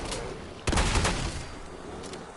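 Shotgun blasts in Fallout 4 hit during a fight, one loud sudden boom followed by a rough spread of echoing shots that decays, with a further blast just starting at the very end.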